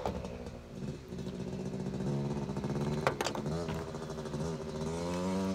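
A freshly restored motorcycle climbs a hill outdoors, its engine droning steadily and rising in pitch as it revs, with a brief sharp spike around the middle and continuous moderate loudness throughout.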